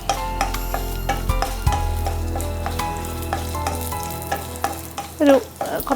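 Dried red chillies frying in coconut oil in a pan, a close, steady sizzle with scraping and clinking from stirring, ending in a louder clatter.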